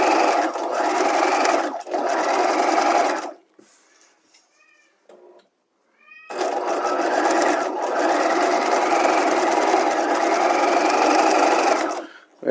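Sewing machine stitching the neckline facings of a garment, running in two long loud bursts of steady buzzing with a short quiet pause between them.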